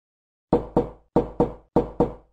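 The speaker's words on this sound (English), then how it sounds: "Someone is at the door, mummy." Three pairs of sharp knocks on a door, close and crisp, each pair a quick double rap followed by a short pause, in an otherwise silent room.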